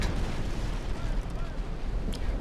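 Naval cannon broadside from a frigate in a Naval Action duel, heard as a dense, rumbling roar of overlapping blasts that sustains loudly through the whole span without a break.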